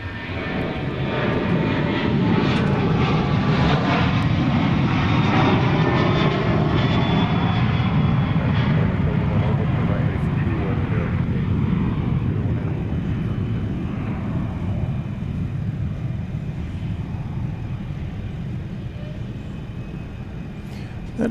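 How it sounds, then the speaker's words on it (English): A Boeing 737-800 jet, flight 3030 from Kansas City, roars past at DFW Airport at night, a loud sustained engine rumble that swells early and slowly fades over about twenty seconds, with no talk. "That appears to have been Flight 3030 from Kansas City, 737-800."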